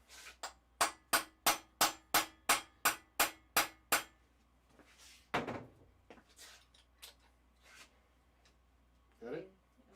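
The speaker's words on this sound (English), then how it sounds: "Time for a hammer!" A hammer strikes repeatedly during the tear-down of a 1.8T engine: about eleven sharp, evenly spaced metallic blows over four seconds, followed by scattered clunks and brief voices.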